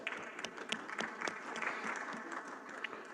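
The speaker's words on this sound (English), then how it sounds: "Let's welcome them with a round of applause" Applause from visitors seated in the public gallery of a parliament's plenary chamber, a moderate, fairly distant patter of many hands clapping steadily for about three seconds with no talk over it.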